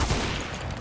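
Rapid gunfire from the video game CS:GO, a dense continuous burst of shots with no pauses, moderately loud and heard alone.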